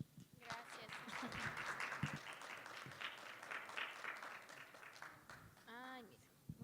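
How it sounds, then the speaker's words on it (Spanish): Applause from an audience at a talk on obtaining venture capital, fairly faint and steady for several seconds, with voices talking over it and a brief tonal sound near the end. "Les pedimos aplausos"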